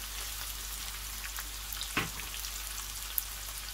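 Onion frying in a pan gives a steady, close hiss of sizzling oil, an even crackle throughout with a couple of brief sharper pops, and no voices.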